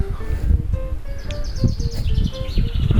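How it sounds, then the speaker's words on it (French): Several birds chirp and trill outdoors near the Déroc waterfall on the Aubrac plateau, France, bright repeated calls over a low breezy background with faint rustling. "on n'entend que les oiseaux"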